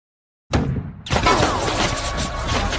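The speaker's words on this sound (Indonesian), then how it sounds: "Tembakan dari jarak dekat terus berlangsung" Sudden loud burst of gunfire at close range, followed by continuous rapid shots and echoing blasts with no pause.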